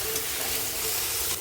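A tomato and mustard paste masala for a prawn and taro curry sizzles and hisses steadily as it is stir-fried in a pan, close and continuous with no talk.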